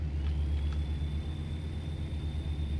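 Simulated truck engine in American Truck Simulator, a steady low droning rumble with the throttle pressed, loud and continuous without talk.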